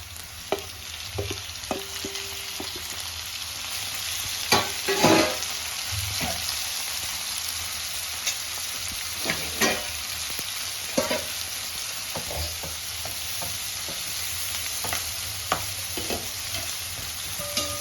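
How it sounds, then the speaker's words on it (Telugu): Onion, green chilli and tomato with chilli powder, turmeric and salt sizzle steadily in a pan for a Telangana-style fenugreek curry, with occasional scraping stirs and clinks of the spoon, close and moderately loud, no talking. "ఇట్లా మగ్గనిద్దాం టమాటా బాగా మెత్తగా"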